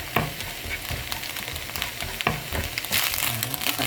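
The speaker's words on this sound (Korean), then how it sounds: "넣어가지고 마늘을 미리 여가 볶아줍니다." Garlic stir-frying in a pan for seasoned fernbrake (gosari) namul: crackling sizzle with scraping stirs and clatter close by, no talking.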